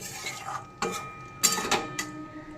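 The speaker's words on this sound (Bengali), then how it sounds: "নেড়ে মিশিয়ে নেব" A metal spoon scrapes and clinks against a cooking pan while cauliflower and potato curry is stirred, a few distinct knocks and rattles close by with quiet gaps between.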